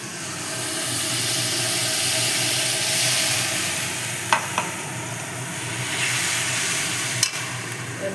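A paste of tomato, ginger and green chilli sizzles loudly and steadily in a hot pan, a constant frying hiss with a couple of brief utensil clicks.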